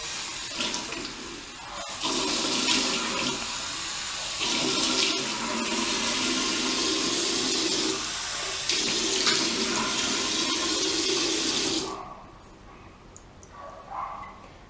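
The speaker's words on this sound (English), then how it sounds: "wet your face with the warm water." Warm water runs steadily from a tap into a sink while a face is wetted in cleansing, a loud continuous splash with brief dips in flow, cutting off near the end to a quiet room with faint clinks.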